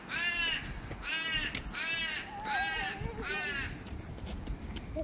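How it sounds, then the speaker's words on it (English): A magpie calls outdoors in a park garden in Adelaide, Australia, giving five harsh, rasping caws in an even rhythm at moderate distance, with a faint warbling note between them. "A magpie?"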